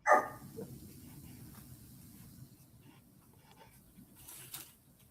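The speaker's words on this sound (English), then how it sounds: "I got a puppy going crazy in the background." A puppy gives a single sharp bark at the very start, followed by faint scattered sounds and quiet background hiss.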